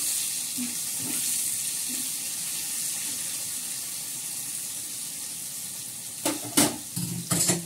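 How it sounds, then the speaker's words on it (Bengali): Bitter gourd frying in a pan gives a steady, close sizzle, then a few sharper scrapes of stirring near the end. "করলা ভাজাটা হলে কপিটা ভাজবো"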